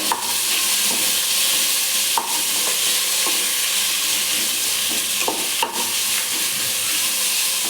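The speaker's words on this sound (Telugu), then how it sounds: "ఈ ముక్కలు ఇందులో వేసుకుందాం. ఇప్పుడు ఇది మంచిగా మగ్గాలండి." Chopped tomato pieces stew in a pan for plain biryani, giving a steady close sizzle and hiss broken by a few sharp stirring clinks, with no talking.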